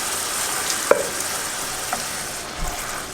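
Shiitake mushrooms and red wine sizzle together in a risotto pan, a steady soft hiss of frying broken by a few faint clicks of stirring, close by with no talk.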